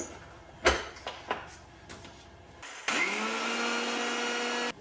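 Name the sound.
grinder grinding yellow sesame seeds into fine powder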